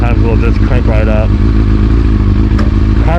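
A carbureted motorcycle engine running steadily after a cold start with the choke halfway, a close, loud, continuous idle with a low throbbing rumble and occasional clattery knocks throughout.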